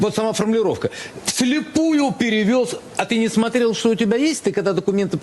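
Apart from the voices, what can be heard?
No distinct noise like a dog, phone or traffic.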